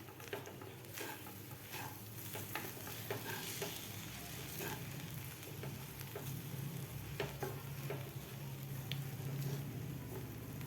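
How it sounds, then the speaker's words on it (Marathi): Onion kachori masala is stirred in a pan, giving a soft, steady sizzle with scattered scraping and clicking strokes, quiet and close with no voices. "मीठ आणि साखर घातल्यानंतर सुद्धा व्यवस्थित आपल्याला मिक्स करून घ्यायचं आहे सगळं."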